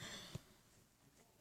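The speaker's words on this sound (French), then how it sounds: "J'ai pogné une petite toux." A single sharp cough bursts out at the very end after a short pause, preceded by a brief faint voice.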